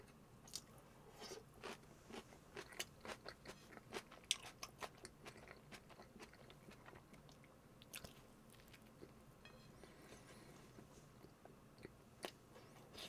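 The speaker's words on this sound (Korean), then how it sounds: "김치도 먹고." Close chewing and crunching of kimchi in a home-made Korean mukbang meal, steady moist bites and crunches repeating in a quiet room with no talk.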